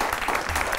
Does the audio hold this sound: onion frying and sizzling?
no